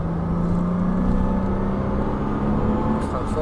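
A Porsche Cayman S on a stadium circuit accelerating at full throttle, its engine drone steady and loud with a rising tone throughout, heard continuously without speech.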